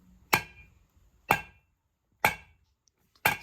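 An 8 kg dumbbell is swung like a hammer, striking a hard object four times in a slow, even rhythm, each hit a sharp, loud metallic bang with brief ringing decay.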